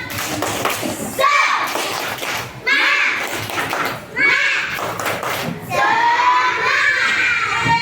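A classroom of children performing the 'tepuk semangat' clapping chant, rhythmic bursts of group clapping alternating with loud chanted voices, close and energetic, with the children shouting the words between claps.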